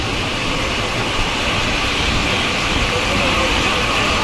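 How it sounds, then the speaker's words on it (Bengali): The 12363 Kolkata–Haldibari Express runs at 106 km/h near Rampurhat, a loud, constant broadband roar of wheels and wind that fills the whole stretch without letting up. "এখন 106 km/h। 12363 হলদিবাড়ি এক্সপ্রেস।"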